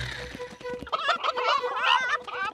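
Cartoon chickens cluck and gobble in a rapid, chattering burst at a springing contest in an animated children's show, with busy overlapping calls rising in the second half.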